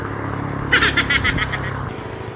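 Live chickens clucking and squawking at a roadside poultry stall in Mindanao, Philippines, over a steady rumble of passing traffic.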